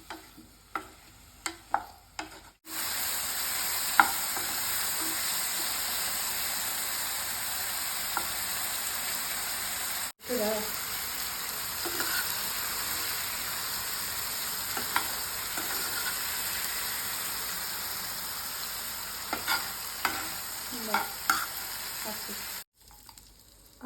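Mushrooms frying in oil ahead of a curry, a continuous close sizzle with intermittent stirring clicks, cut off briefly by short silent gaps near the start, middle and end.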